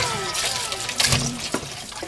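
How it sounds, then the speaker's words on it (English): Mushrooms and other ingredients are rinsed in a bowl under a running kitchen tap, a steady close splashing of water with a few louder sloshes and no speech. "so just wash the ingredients"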